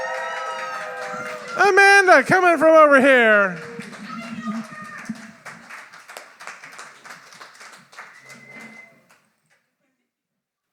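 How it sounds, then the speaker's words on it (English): At a poetry slam, an audience welcomes a poet with whoops and whistles followed by scattered clapping that carries on under a host talking, then fades to silence. "please give a huge round of applause to Amanda"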